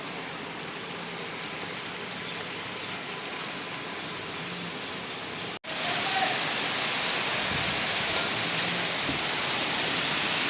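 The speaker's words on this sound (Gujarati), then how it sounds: "તો ગાઈસ વાવાઝોડું કમ્પ્લીટ ચાલુ થઈ ગયું છે અહીંયા તો." Heavy storm rain pours down in a steady broadband roar, briefly cutting out with a click midway, then returning louder and denser, with no voices.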